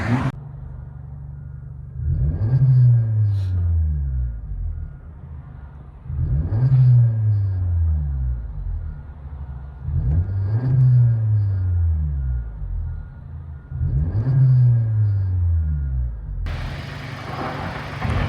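Deep, rumbling exhaust of a 2024 Honda Civic 2.0L with a muffler delete, heard from inside the cabin, with four repeated rev swells that rise and fall in pitch, followed by a brief burst of wind or road noise at the end.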